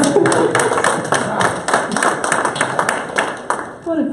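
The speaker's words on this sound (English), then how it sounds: "We give a round of applause." An audience at a startup fireside chat claps in a loud round of applause, sharp close claps overlapping steadily before tapering off near the end.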